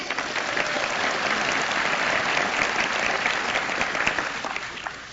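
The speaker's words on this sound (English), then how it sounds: "So give me short applause and I'll start again." Conference audience applause: a dense, steady wash of many hands clapping, sustained at even loudness for about five seconds with no talking over it.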